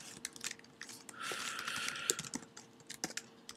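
Fingers type on a computer keyboard, a fast run of light, close clicks with a denser burst midway and short pauses between keystrokes.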